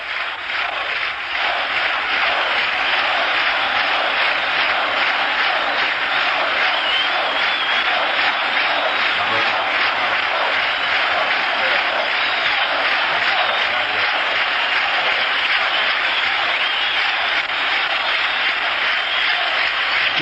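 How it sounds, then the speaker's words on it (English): Baseball crowd at Fenway Park during the 1975 World Series applauding in a rhythmic staccato pattern, a vast, roaring, continuous wash of clapping and cheering that holds steady and loud for twenty seconds. "Applause, the staccato applause, and go Sox go."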